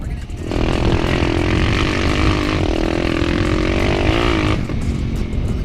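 Geon X-Ride 190 pit bike engine running hard while riding, a loud sustained buzzing drone that climbs and holds in pitch for about four seconds before cutting back, with some background noise.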